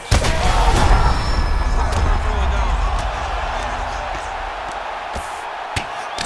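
Arena crowd roar in the UFC 5 fighting game, a bout between Ilia Topuria and Gilbert Burns, swelling loudly at the start and then holding as a steady broad wash that gradually eases.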